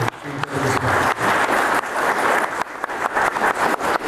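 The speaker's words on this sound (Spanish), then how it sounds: "démosle un aplauso a Juan Carlos Villarreal para pedirle." Loud, sustained clapping fills the room at a political forum ahead of the 2018 elections, a thick wash of many hands that keeps going with no voices over it.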